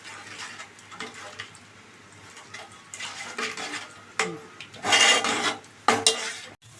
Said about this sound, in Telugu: ఇలా నీళ్ళు వేసుకొని బాగా కలుపుకోవాలి